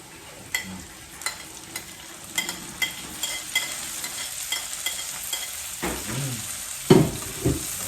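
Tomatoes cook in a pan for a mung bean dish, with a soft, steady sizzle and regular spoon clinks and scrapes against the pan, close by, with a couple of louder knocks near the end.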